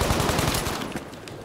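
A gun in Battlefield V firing a rapid, sustained automatic burst of close, loud cracks that tapers off toward the end.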